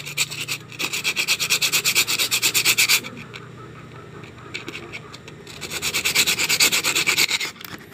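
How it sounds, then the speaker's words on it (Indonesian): Sandpaper rubbed by hand over a brake part from a Mitsubishi L300 in a repair setting. It comes as two long bursts of rhythmic back-and-forth scraping strokes, close and fairly loud, with a quieter pause between them. "kalau seret kita amplas dulu"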